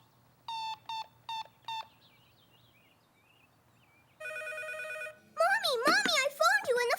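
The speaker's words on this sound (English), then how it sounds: "Mommy, I phoned you and the phone rang." A telephone in a children's cartoon rings in four short, evenly spaced bursts. A pause follows, then steady electronic tones and an expressive voice.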